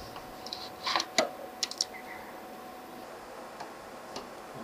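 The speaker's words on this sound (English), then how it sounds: "First, install the fixing screws." Fixing screws being fitted on a stage beam light after its power supply is replaced, a few small close metallic clicks and ticks in quick clusters, then sparse taps against quiet room noise.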